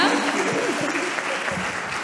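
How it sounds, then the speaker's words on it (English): A round of applause rises from an audience at a women's leadership event, brief dense clapping under a voice still talking. "give a round of applause to Zianda"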